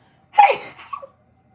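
A single human sneeze, close and sharp, with a sudden loud burst followed by a shorter trailing exhale, alone in a quiet room.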